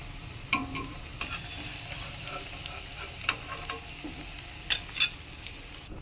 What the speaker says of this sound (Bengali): সব লাল লাল করে এরকম করে ভেজে নেব সব কাঁকরোলগুলো